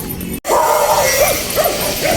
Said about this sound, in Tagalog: nakakarinig tayo ng mga asong tumatawag